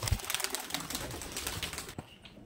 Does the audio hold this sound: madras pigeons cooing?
yes